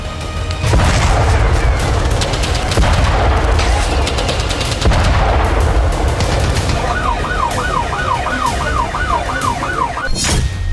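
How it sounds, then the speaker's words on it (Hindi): Bombardment explosions in Gaza during the Israel–Hamas conflict: loud, dense rumbling blasts and booms fill the scene, with a wavering siren rising and falling near the end over continuous low roar. "गाजा पर इजराइल का जबरदस्त पलटवार, रात भर में 500 से ज्यादा ठिकानों पर बमबारी हुई है।"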